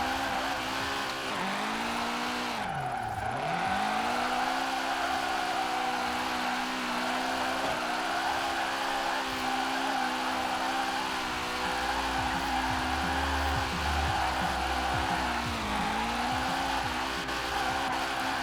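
A car in Forza Horizon 4 drifts and races, its engine holding a loud, sustained high-revving whine with dips and swoops as revs drop and climb through slides, near and continuous with no talking.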